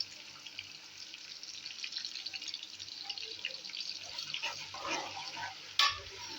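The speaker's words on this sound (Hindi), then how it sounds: "यहाँ पर जो है हमारा अदरक जो है पेस्ट अदरक लहसुन का वो फ्राई हो चुका है।" Ginger garlic paste frying in melted ghee makes a quiet, steady sizzle with faint spattering and crackles, and a brief clatter near the end, with no voices.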